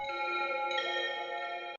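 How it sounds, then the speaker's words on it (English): Dreamy synthesized bell tones from an ambient music track made on an iPad ring out together as a sustained shimmering chord, a brighter layer joining partway, then cutting off abruptly near the end. "Dreamy dulcet bells."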